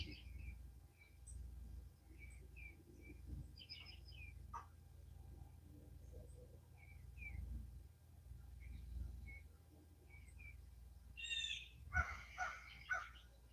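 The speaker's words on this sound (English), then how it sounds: "Birds sound great this morning." Birds sing and chirp at dawn, short repeated calls scattered across the clip, a louder burst of song near the end over a quiet low rumble.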